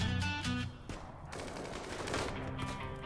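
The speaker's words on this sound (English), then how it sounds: "I don't like snipers shooting at us." Sniper gunfire in the colony-building video game Rimworld, a dense run of sharp shots and bursts that stay loud from start to end with no talk over them.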